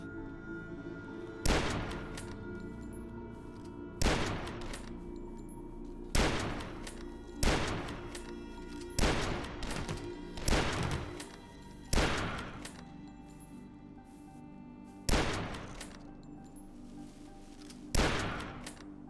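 A hunting rifle in the video game DUSK fires about nine single loud shots, each spaced roughly two to three seconds apart, every crack followed by a short fading tail over a quiet background.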